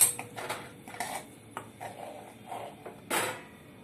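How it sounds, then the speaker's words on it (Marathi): Cooked red pumpkin vegetable dish served from the pan into a bowl, with a spoon clinking and scraping in short, irregular metallic taps at moderate loudness. "भाजी एका बाउलमध्ये मी काढतोय"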